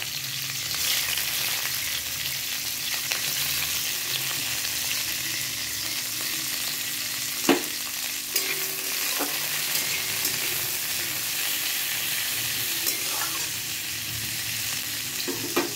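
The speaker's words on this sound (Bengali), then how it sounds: "যেটুকু তেল ছিল সেইটুকু তেলের মধ্যে আমি এবার ক্যাপসিকামগুলো একটু হালকা করে ভেজে নেব" Capsicum frying lightly in a little leftover refined oil in a pan, a continuous moderate sizzle with occasional sharp spatula clinks and scrapes, close by and without any talking.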